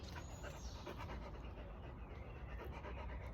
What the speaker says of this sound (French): Il y a un chien là-bas.